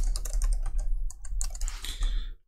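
Rapid keystrokes on a computer keyboard as a folder name is typed into OneDrive, a close, steady run of clicks for about two seconds before stopping.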